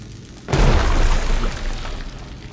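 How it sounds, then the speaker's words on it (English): A grenade blast in the stealth game Dishonored 2: one loud, deep boom that bursts out suddenly, then a long rumbling tail that slowly fades. No voices are heard. "I'm gonna toss a grenade in there."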